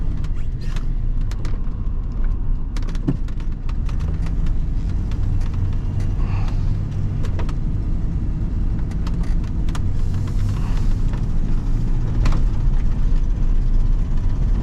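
An all-original 1992 Ford F-250 extended-cab 4x4 pickup drives along a back road, its engine a steady, loud low drone with faint creaks and rattles from the cab throughout.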